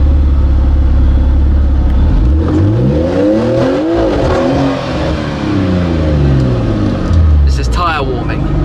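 A supercar warming its tyres at the Goodwood hill climb, its engine revving up and dropping in loud sweeping pulls close by, while people talk over the roar.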